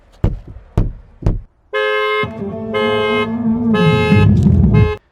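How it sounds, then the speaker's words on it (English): A loud electronic Tesla car alarm cycles through musical tones, following a few sharp knocks at the start; steady, blaring, and close. "if someone breaks in, it makes a really loud musical alarm"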